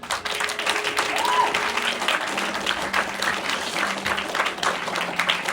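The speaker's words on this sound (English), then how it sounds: "Let's give them a big round of applause." An audience at a TEDx youth event applauds steadily, a dense wash of clapping from a large crowd lasting several seconds with a few voices mixed in.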